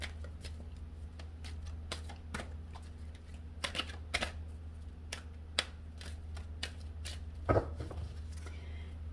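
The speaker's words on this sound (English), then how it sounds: "Let me shuffle these cards." Oracle cards being shuffled by hand, quiet irregular riffling and tapping clicks, close and soft over a low steady hum.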